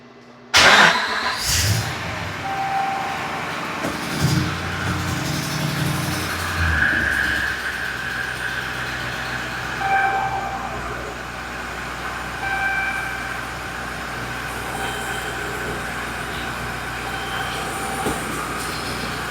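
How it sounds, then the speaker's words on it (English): A 2012 Ram 2500 pickup with an ABS fault code cranks and fires up with a loud burst, then settles into a steady, moderately loud idle while sitting in gear, with faint hums and whines around it. "So I'm going to climb up in the vehicle and start it and put it"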